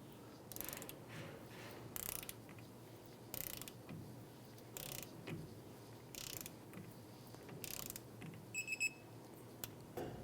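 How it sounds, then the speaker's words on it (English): A 16mm socket on a ratchet tightens a rear shock bolt on a 2000-2006 Toyota Tundra, with several short, quiet clicking bursts spaced a second or two apart in a hushed setting. "We're using a 16mm socket and ratchet to tighten this up."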